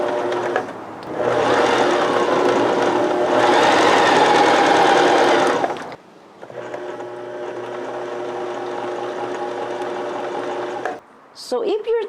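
A sewing machine stitches in sustained motor-driven bursts, one run from about 1 to 6 seconds and a quieter steadier one after, stopping briefly between them, close and loud with no talking.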